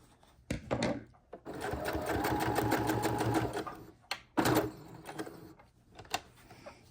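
Sewing machine stitching fabric scraps for flying geese quilt blocks: a close, steady run of rapid needle strokes for about three seconds, then two short bursts of stitching with mechanical clicks and handling noises between them.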